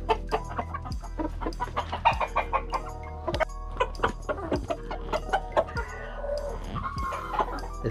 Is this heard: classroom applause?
no